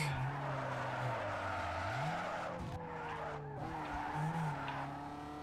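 Car drifting in Need for Speed Underground 2, sustained tire squeal wavering in pitch over a steady engine drone, game audio alone without talk.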